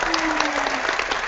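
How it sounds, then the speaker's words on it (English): Applause from a live audience at a retro gaming livestream event fills the space, dense and continuous clapping throughout, with a voice briefly heard over the crowd. "That deserves a round of applause."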